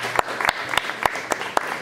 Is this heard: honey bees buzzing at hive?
no